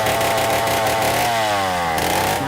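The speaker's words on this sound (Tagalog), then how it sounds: "Nanggagaling sa tunog ng chainsaw" A chainsaw roars loudly and continuously, its engine pitch rising and falling as it revs, in Northern Samar, Philippines.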